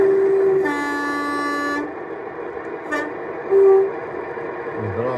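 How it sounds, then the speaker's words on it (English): Horn of an O gauge model Class 45 Peak locomotive sounding through a sound-fitted speaker: a sustained tonal blast of a couple of seconds, then a short second toot, close and clear over a steady background hum. "About 6 to 7 different horns on this sound file"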